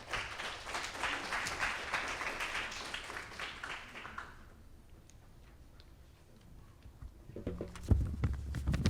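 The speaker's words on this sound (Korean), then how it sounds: "큰 박수로 맞아주시기 바랍니다." Audience applause at a Korean-language broadcasting forum session, sustained and fairly loud for about four seconds before fading into quiet room tone, with a brief voice or microphone bump near the end.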